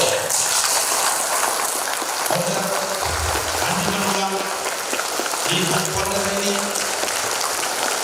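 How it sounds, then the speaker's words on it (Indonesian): Lively applause for a founder fills a seminar hall at Ciloto Puncak, a broad crackling wash of many clapping hands while someone speaks over it through a microphone. "Tepuk tangan yang meriah buat Bapak founder Haryanto."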